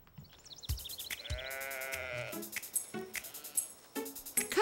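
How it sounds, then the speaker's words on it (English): A cartoon sheep bleats several times in quick succession, the wavering cries loud and close, with short percussive clicks and other effects between them. "Caillou thought the sheep looked very funny."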